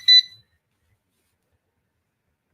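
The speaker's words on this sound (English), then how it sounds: "Oh, my timer's going off." A kitchen-style timer beeps in a quick high-pitched burst of a few short tones lasting well under half a second, then cuts off into silence.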